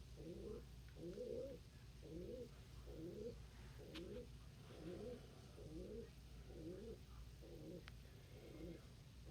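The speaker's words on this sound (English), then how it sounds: "I hear that coo. There is a coo back there." A pigeon or dove coos in a steady repeated rhythm, about ten soft phrases spaced roughly a second apart, fairly distant over a constant low background hum with no talking.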